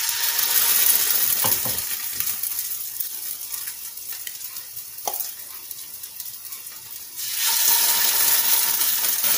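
Chicken breast pieces dipped in onion batter sizzle in hot oil in a frying pan over low heat, a loud, steady crackling hiss that dips in the middle and swells again, with no talking.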